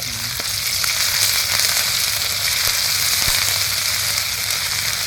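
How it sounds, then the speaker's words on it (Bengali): Ginger-garlic paste and chopped garlic fry in very hot oil, a loud, dense, continuous sizzle with scattered crackles and pops, close up and without any voices. "এবার একটু আদা রসুনটা হালকা করে ভেজে নেব"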